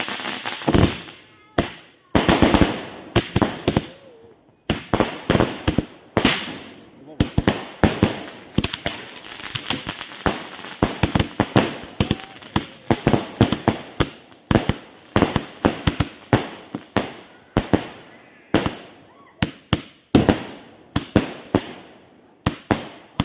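Firecrackers burst in dense, sharp crackling volleys with brief pauses between strings, loud and close, at a village temple lamp festival, with people talking between the bangs.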